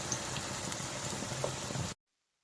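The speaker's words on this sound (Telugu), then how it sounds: "ఇలా గోల్డ్ కలర్ వచ్చేదాకా వేయించుకోవాలి" Bread cutlets fry in a pan of oil, giving a steady soft sizzle and bubbling with small pops, close and fairly quiet, before stopping suddenly.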